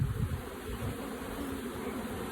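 Honeybees at an open hive during robbing, a dense, steady buzzing swarm heard up close with no talk.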